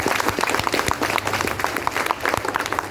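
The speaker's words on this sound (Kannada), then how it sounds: "ನಿಮ್ಮ ಕಡೆಯಿಂದ ಜೋರಾದ ಚಪ್ಪಾಳೆ ಬರಲಿ" An audience at an Independence Day gathering breaks into loud, sustained applause, with dense rapid clapping from many hands filling the space at a steady, even volume.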